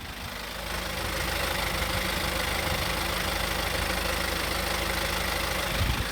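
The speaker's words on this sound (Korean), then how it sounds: "엔진음 한번 들려드릴게요" A steady, even BMW SUV engine idle hums continuously at close range, a smooth low drone with no speech over it.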